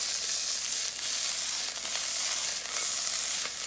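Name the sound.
food sizzling in a frying pan after flipping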